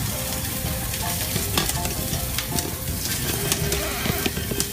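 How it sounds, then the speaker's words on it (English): Organic grass-fed gluten-free meatballs sizzle steadily in a hot pan, a dense continuous crackle with small pops throughout, close and fairly loud, no voices. "You get a nice little sizzle going on"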